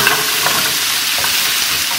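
Onion, garlic and green and red peppers frying in a pan while being stirred, for imam bayıldı; steady close sizzle with occasional scraping stirs, no voices.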